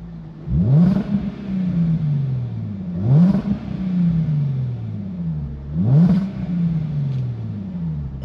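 Three sharp, loud revs from the supercharged V6 of a stationary Jaguar XE S (X760) with an 8-speed ZF automatic. Each rev climbs quickly and then slowly winds back down toward a steady idle, heard close up with no talking.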